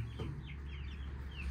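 Chicken clucking in a backyard bird colony, a few soft, quick clucks heard up close over a low, steady background hum.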